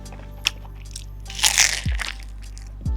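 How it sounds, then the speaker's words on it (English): A crisp crunch of teeth biting into a custard pastry in Macau, a short crackly burst close to the mic, followed by faint low chewing thumps. "did you hear the crunch?"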